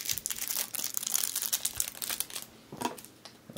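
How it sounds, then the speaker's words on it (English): Crinkly plastic wrapping of a Pokemon Sword and Shield card pack being torn and crumpled open by hand, close and continuous with irregular crackles. "Let me go ahead and open up this little thing of cards."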